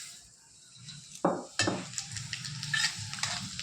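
Panch phoron, two dried red chillies and two bay leaves hit medium-hot oil with sudden loud sizzling bursts that settle into steady crackling and spitting, with faint utensil clinks nearby.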